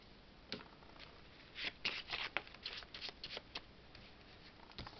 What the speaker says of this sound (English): Okay, shuffle the actions deck.